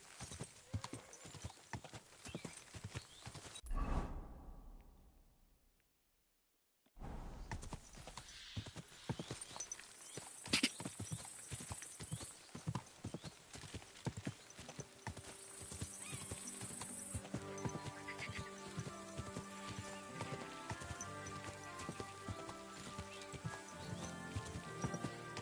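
Horse hooves clip-clopping steadily on the ground in Kingdom Come Deliverance 2, broken by a brief silence, followed by a clear neigh and continued hoofbeats under game music and ambience.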